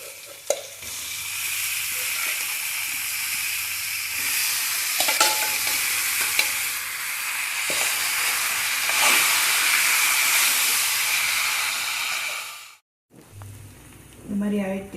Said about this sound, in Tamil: வதக்கிட்டு உங்களுக்கு காமிக்கிறேன்